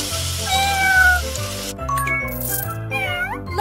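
A cartoon cat meows several times in a children's superhero dress-up game, the rising and falling mewls playing over bouncy background music with light rattling and tinkling effects.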